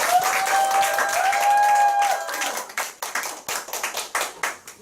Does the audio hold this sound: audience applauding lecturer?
yes